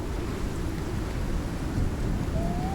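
A thunderstorm in the survival game Icarus fills the air with steady heavy rain and a low rumbling roll of thunder, continuous and enveloping with no speech.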